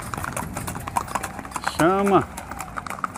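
Horse hooves clop steadily and up close at an open-air horse and animal fair in Abreu e Lima, Pernambuco, with someone talking over the hoofbeats throughout.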